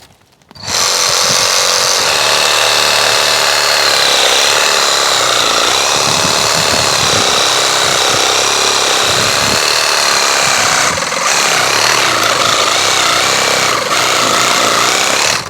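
A loud, continuous power-tool whine starts abruptly and runs nonstop, the motor buzzing steadily as a GardenJoy 21-volt cordless reciprocating saw cuts through wood.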